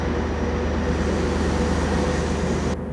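A loaded coal train rumbles steadily across a bridge on the South Yorkshire Joint Line, with heavy rhythmic wagon clatter over the rail joints, loud and close throughout.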